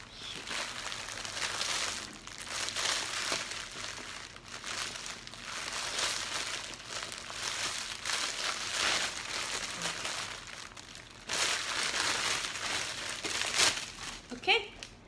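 Crinkling and tearing of wrapping paper as a Teacher's Day gift package is opened, steady rustling that comes and goes in bursts, close and moderately loud, with a few sharper crackles near the end.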